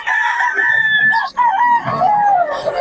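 A rooster offered for sale at a Bocaue chicken market crows once, loud and close, in a long wavering call that dips briefly midway before trailing off.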